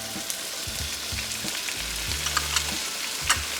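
Shallots and garlic fry gently in butter and oil in a pan, a soft steady sizzle with a few light scrapes and clicks of a utensil stirring, no voices.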